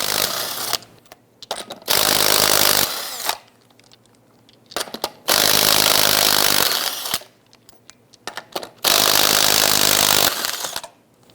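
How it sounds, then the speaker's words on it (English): Impact tool loosening wheel lug nuts with a 19mm socket on a 1999-2004 Jeep Grand Cherokee, four loud close bursts of buzzing rattle, each about a second long, separated by quieter gaps with small clicks. "Using our 19mm socket, go ahead and loosen and remove the lug nut."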